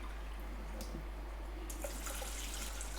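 Basmati rice being rinsed in water in a kitchen, soft trickling and sloshing with a steady low hum underneath, faint and close, a brief splashy burst near the end.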